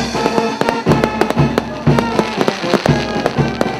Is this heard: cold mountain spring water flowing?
no